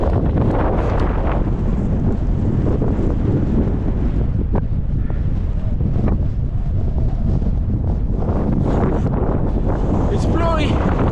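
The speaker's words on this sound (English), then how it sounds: "It's blowy." Strong wind roars across the microphone on the summit of Sty Barrow Dodd in the Lake District, a loud continuous buffeting rush with brief voices heard under it.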